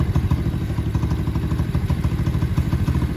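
A Venom motorcycle engine running at a deliberately low idle, producing a steady, close, throbbing low rumble with a regular pulsing beat and no talking over it.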